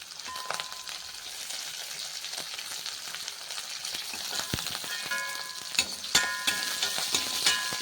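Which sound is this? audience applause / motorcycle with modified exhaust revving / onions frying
onions frying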